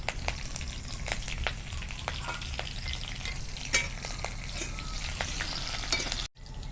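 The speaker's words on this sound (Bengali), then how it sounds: "এবার ওই তেলেই ফোড়ন দিয়ে দেবো। ফোড়নে নিয়েছি এই যে মৌরি, রাই আর গোটা জিরে" Mustard, fennel and whole cumin seeds with chopped green chilli sizzle and crackle steadily in hot oil, with scattered sharp pops and the occasional stir, close and continuous until a brief cut near the end.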